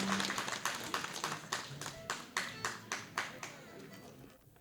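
An audience at a Romanian village festival claps in a steady, rhythmic beat, with individual hand claps clearly audible at a moderate distance before the clapping fades near the end.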